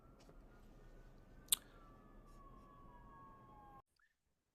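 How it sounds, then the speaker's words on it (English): Emergency sirens pass by outside, faint and distant, with wailing tones sliding slowly downward behind a quiet room hum and a single sharp click before the sound cuts off. "I've had a lot of like sirens going by"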